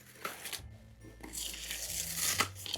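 Glitter cardstock is peeled and weeded from a Cricut cutting mat, a close, dry crinkling and tearing rustle that swells and continues for a few seconds, with faint room noise and no speech.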